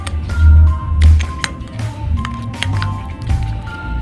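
Homemade slime being stirred in a container after activator is added, wet squishy squelches and sticky pops in irregular bursts, close and fairly loud.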